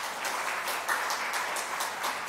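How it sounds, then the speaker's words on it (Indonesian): Applause from a congregation at a Sunday church service, a moderate, steady patter of many hands clapping that holds evenly for a couple of seconds, slightly distant and soft. "Ayo kasih tepukan 1000 orang"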